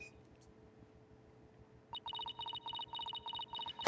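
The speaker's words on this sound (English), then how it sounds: "thankfully, your fucking phone is ringing" A phone rings in the Apollo Justice: Ace Attorney video game, a bright electronic trill repeating in short bursts after a quiet stretch of low background hum, with a voice cutting in at the very end.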